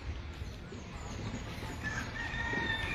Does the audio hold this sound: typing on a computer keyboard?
no